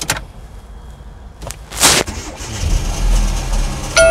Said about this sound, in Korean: 5초 내에 엔진 시동을 거세요.